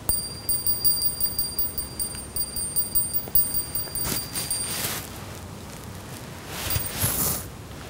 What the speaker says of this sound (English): Did you notice that Sentry directed her attention directly to the bell?